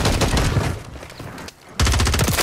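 Rapid bursts of gunfire in a Call of Duty Warzone match, loud and dense with a brief lull before another volley, with no talk over it.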